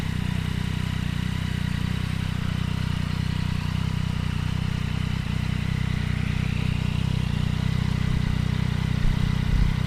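A Yamaha XSR900 motorcycle with an Akrapovic exhaust runs close by, its engine a loud, steady drone throughout with only a slight rise in pitch partway through.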